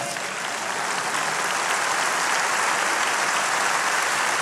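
A church congregation applauding, a dense, sustained wash of clapping from many hands that grows slightly louder and fills the whole few seconds.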